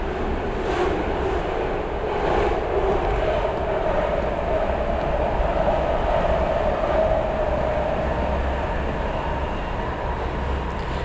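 Inside the VR horror game Here They Lie, a moving train gives a steady, loud, low rumble with a faint droning whine throughout and no voices.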